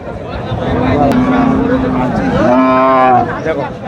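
A cow at a livestock market lets out a long, loud moo close by, followed by a second rising moo, amid a busy background with voices.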